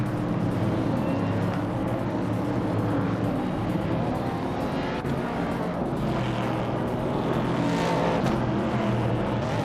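Video game race cars tear away from the starting line, a dense, loud wall of engine noise with layered revving tones that rise and fall throughout.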